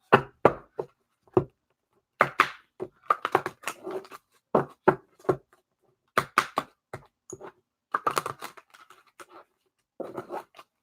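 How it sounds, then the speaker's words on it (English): Tarot cards being shuffled by hand, sharp irregular taps and riffles in short bursts with quiet gaps between them, close and fairly soft. "Let me go ahead, Chloe, and shuffle your cards."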